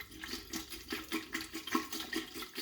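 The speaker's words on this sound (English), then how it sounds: "I'm gonna add a little water." Water poured into a cooking sauce, a close, gurgling stream with rhythmic sloshing pulses, no talking over it.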